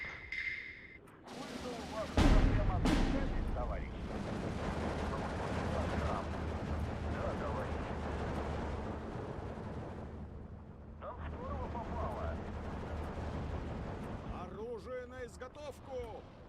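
A 1,000 kg bomb strike in the WW2 strategy game Steel Division 2: a sudden heavy blast followed by a long roaring, rumbling wash of explosions and battle noise, with a voice talking over parts of it.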